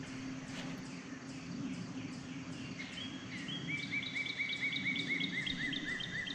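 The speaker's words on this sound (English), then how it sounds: "Sure hear all the birds. They're happy this morning" Morning birdsong rises over a Mississippi River overlook in Guttenberg, Iowa: repeated high chirping phrases, fairly close and clear, over a low steady hum and insect buzz, without speech.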